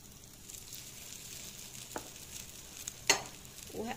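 Potato waffle batter is spooned into a waffle maker and sizzles with a soft, continuous hiss, broken by a few faint clicks and scrapes of a spoon.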